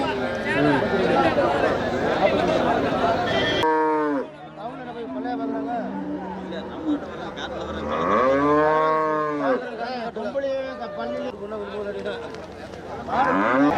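Cattle at the Manapparai cattle market lowing in several long, drawn-out moos, some close and loud, amid busy crowd chatter and people talking nearby.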